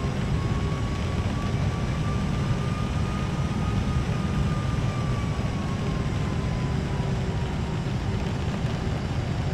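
A Boeing 747-400F cargo jet taxiing at an airport gives off a steady, continuous engine rumble with a faint high whine held across the whole stretch, with no voices.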